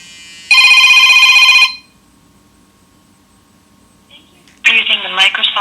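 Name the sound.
incoming Microsoft verification phone call ringing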